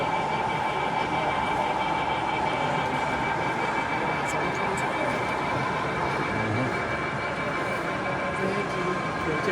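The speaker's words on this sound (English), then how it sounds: "There goes the Virgin train." A model Virgin train runs on a model railway at an exhibition, making a steady, continuous whirring rumble close by against busy hall noise and faint voices.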